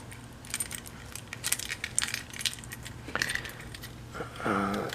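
A bunch of car keys jingles and clinks in several short bursts, close by, beside a 1990s LT1 Caprice being checked for fuel pressure, with a brief metallic rattle near the end.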